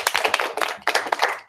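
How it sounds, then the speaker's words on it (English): A small group claps together in a round of applause, uneven bursts of hand claps with a brief lull midway, fairly close and moderately loud. "just give a big round of applause to Taha."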